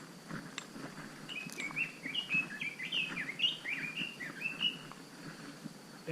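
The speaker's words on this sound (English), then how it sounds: "Wow, that's a pretty good song for such a small bird." Chinese robin on a Hawaiian forest trail along Manoa Cliff and Pauoa Flats, delivering a warbling song of quick whistled phrases mid-clip, moderately distant over soft background rustle and a few faint chirps.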